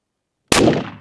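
A single loud gunshot from a modern gun bursts sharply out of silence, then a brief booming decay rings off over the next half second.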